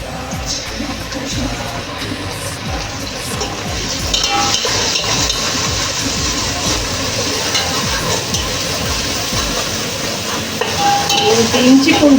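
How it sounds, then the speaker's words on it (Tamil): Onion with cinnamon, cloves and cardamom frying in about 150 ml of sesame oil for kalan biryani, a loud continuous sizzle with stirring and scraping against the pot, growing a bit busier toward the end. "பட்டை, லவங்கம், ஏலக்காய், அடுத்து வெங்காயத்தை போடணும்."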